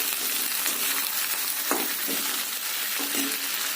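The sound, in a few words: pigeon meat frying in oil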